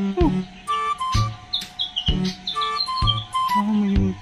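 Birds chirping in a heavily fruiting tree on a farm in Cebu: short, bright tweets and whistles come in quick bursts, close by and fairly loud, over low thumps and background noise.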